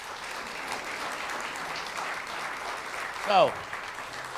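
A meeting audience gives the local newspaper a steady round of applause, a soft even wash of clapping throughout, with a voice briefly cutting in near the end.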